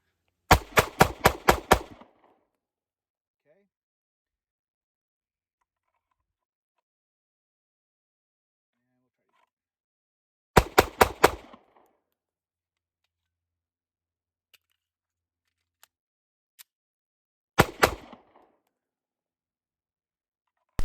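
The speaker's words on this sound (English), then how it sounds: "let's just try a couple of bill drills just to see how it sort of cycles and feeds under a little bit faster volume of fire here" Pistol fire from an HK CC9 handgun during bill drills: three quick strings of about five to six sharp, evenly spaced shots each, separated by long silences with a few faint clicks between.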